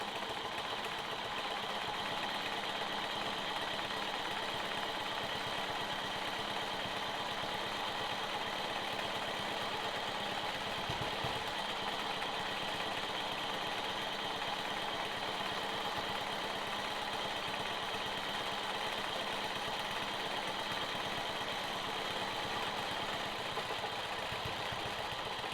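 A sewing machine runs steadily and continuously while quilting a curved swoop across a sawtooth star quilt block, a dense close mechanical whir held for the whole stretch with no talk.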